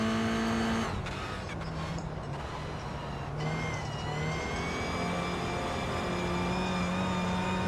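Race car engine in a video game, a steady droning tone that drops in pitch after the first second and holds under shifting gears, loud and continuous throughout.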